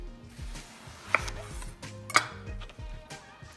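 An eggplant cut with a knife into large round slices: two sharp, close chops about a second apart over a quiet, low background.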